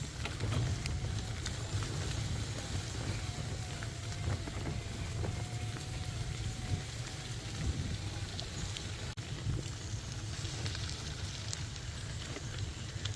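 Steady rain falls at a riverside campground along a bike trail, a continuous broadband hiss with low rumble running the whole time, no voices.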